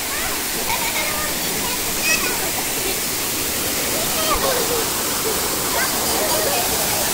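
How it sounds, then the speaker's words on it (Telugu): A waterfall roars in a constant, dense rush of falling water close by, with muffled voices partly buried beneath it. "ఇది మనం లోనికి వస్తే ఇక్కడ చక్కగా జలపాతం, వండర్ఫుల్, అమేజింగ్"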